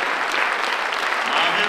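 Steady applause from a concert audience for a choir, a dense even patter of many hands clapping without pause.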